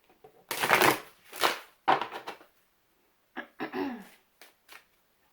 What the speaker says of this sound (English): I'm going to shuffle from the Native Spirit deck.